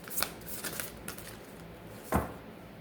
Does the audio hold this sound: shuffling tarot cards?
yes